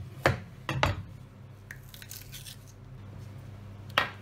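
Plums being sliced in half and pitted for Persian lavashak fruit leather, a few close knife cuts and wet squishy clicks at the start and one more near the end, with quiet rustling in between and no talk.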